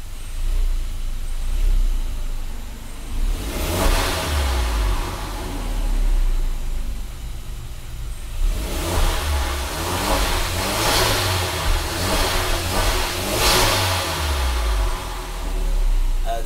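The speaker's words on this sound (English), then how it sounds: "I kind of went up to 3500 RPM sitting here." A car engine revs up to about 3500 RPM while the car sits stationary, rising and falling through a few throttle blips over a steady idle, loud and close.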